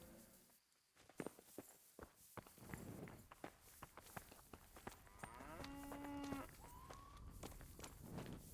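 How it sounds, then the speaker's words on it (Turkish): A cow moos once in a long, low call in the video game Kingdom Come: Deliverance, heard among footsteps and scattered thuds, moderately near. "Umarım inektir."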